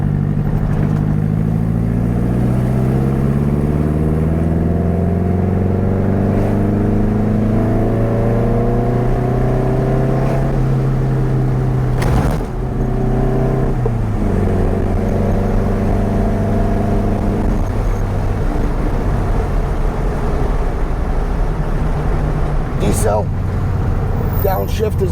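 A 1966 VW Beetle with a 1776cc engine revs loudly while driving, its pitch climbing through the gears with several shifts and a steady roar, someone talking over it.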